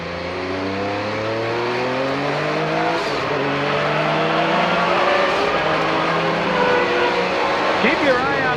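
Race cars, including a 1990 Porsche 962/C, accelerate hard at a green-flag restart in a Rolex Monterey Motorsports race, their engines roaring together with rising and falling pitch, loud and close, while a commentator speaks over them.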